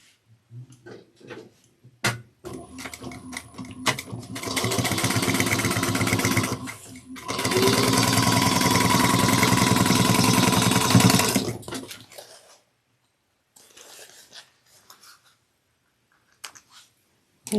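Sewing machine top stitching the lining of a fold-over cross-body bag: two loud, sustained runs of rapid motor whir and needle chatter, separated by a brief pause and framed by small handling clicks and quiet gaps.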